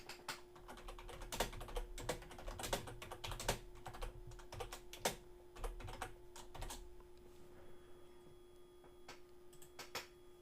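Fingers type steadily on a computer keyboard, dense bursts of close clicky keystrokes that thin out toward the end, with a faint steady hum underneath and no speech.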